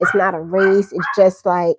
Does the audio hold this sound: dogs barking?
yes